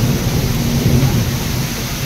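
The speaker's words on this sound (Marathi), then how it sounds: "लयच मोठा पाऊस आहे मध्ये" Heavy rain pours down during a thunderstorm in Nanded, a loud dense roar with deep rumbling thunder underneath, sustained throughout with no voices.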